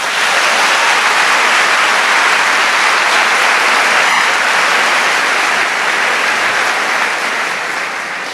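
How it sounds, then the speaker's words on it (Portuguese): A congregation applauds loudly and continuously during a Catholic sermon, a dense, roaring wash of clapping that holds steady for several seconds before easing off slightly at the end, with no speech. "Então aplauda o teu Senhor"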